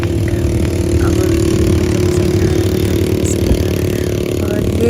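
Motorbike engine running on desert sand in Abu Dhabi, a steady, loud, close drone held throughout at a near-constant idle pitch, with no speech.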